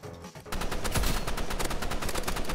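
Rapid paintball gun shots from a Roblox Rivals match, a dense run of sharp, evenly spaced pops fired in a fast stream after a brief quiet start, loud and close throughout.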